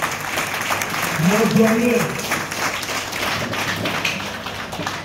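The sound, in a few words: applause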